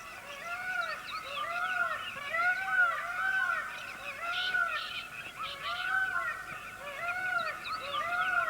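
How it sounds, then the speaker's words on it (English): A peacock calls again and again in a tiger-inhabited forest, its loud honking cries evenly spaced in a steady rhythm, each one rising and falling, heard across open ground. "the peacock, calling in the far distance"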